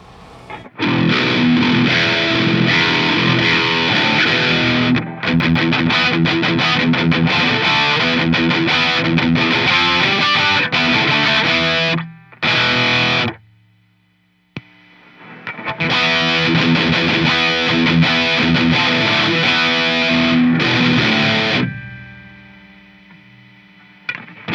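An 8-string guitar plays heavy, thick chords through a Revv G3 distortion pedal. The loud riffing stops briefly in the middle, resumes, and then cuts off near the end.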